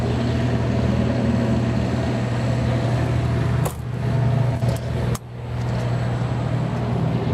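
A quiet diesel 8,000 watt generator on a recreational vehicle runs with a steady low engine drone, close by, with a couple of brief knocks or clicks partway through.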